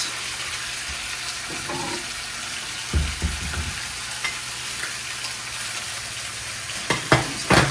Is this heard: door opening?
no